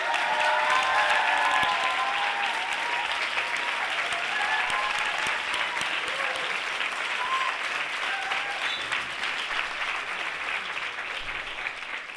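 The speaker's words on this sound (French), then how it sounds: "Alors, sous vos applaudissements, Paris, Jeanne de Marbre, s'il vous plaît." Sustained applause from an audience at a live stage show in Paris, a dense, steady wash of many hands clapping at close range for about twelve seconds, fading slightly toward the end with no talk over it.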